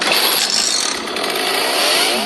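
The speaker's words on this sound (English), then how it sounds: "When a chainsaw impacts something, it has a tone as well." A film-prop chainsaw runs loudly and close, its high buzzing motor holding steady for a couple of seconds.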